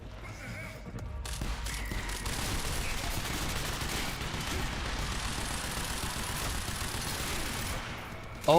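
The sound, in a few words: gunfire from the Quantum Break video game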